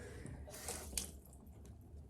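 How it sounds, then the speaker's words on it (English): Tap water runs quietly into a sink while a makeup brush is washed with dish soap, a soft steady trickle with a few sharper splashes and drips. "A little more water there."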